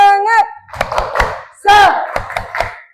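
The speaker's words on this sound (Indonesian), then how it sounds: "sebelum presentasi kita tepuk semangat dulu" A school class does a rhythmic spirit clap, with distinct sharp clap hits in a patterned rhythm alternating with group chanting voices.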